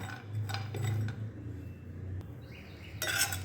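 Spoon stirring chopped raw mango in a dry pan with no oil over high flame; faint scraping and light clinks, close, with quiet gaps between strokes.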